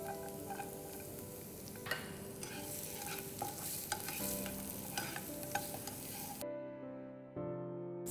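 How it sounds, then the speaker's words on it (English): Chopped onions and garlic frying in a pan, sizzling steadily with repeated scraping and stirring strokes, close and alone, before the sound cuts to near silence with faint background tones. "Now let's go ahead and add our chopped onions to this."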